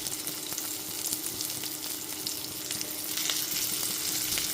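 Hilsa fish pieces coated in salt and turmeric fry in hot oil, giving a close, steady crackling sizzle that holds without break and without voices.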